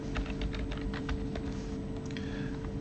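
Rapid, steady typing on a computer keyboard while a spreadsheet lookup formula is entered, the clicks close and continuous over a low background hum, no voices.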